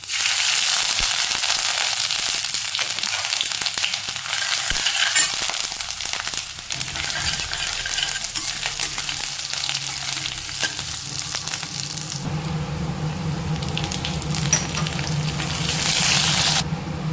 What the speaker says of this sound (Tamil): இஞ்சி பூண்டு இந்த பச்சை வாசனை நல்லா போனது பிறகு பாருங்கள் கலர் நல்லா மாறிடுச்சு நல்லா பொரிஞ்சிருச்சு